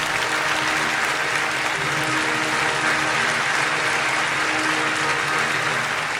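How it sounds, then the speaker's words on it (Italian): Theatre audience applauding a Ukrainian dance company at the Teatro Comunale di Ferrara, a dense and sustained wash of clapping that stays even and full for the whole stretch. "Sono stati accolti con grandi applausi"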